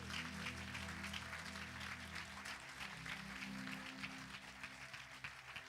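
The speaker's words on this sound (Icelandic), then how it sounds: "Við erum okkur að klappa fyrir þeim því að þeir eru tiltölulega nýkomnir inn" Church congregation clapping for recently arrived members, a dense steady applause with faint musical tones underneath, quiet and continuous throughout.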